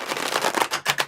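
Tarot cards being shuffled by hand, a quick run of soft riffling, flicking card noise that stops briefly and then resumes, close up with no talking.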